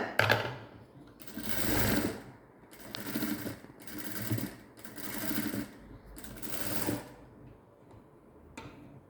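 A sewing machine stitches piping with a small border on a blouse in short bursts of rapid mechanical chatter, about five runs separated by pauses, close and moderately quiet.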